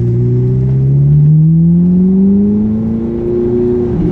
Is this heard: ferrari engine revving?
yes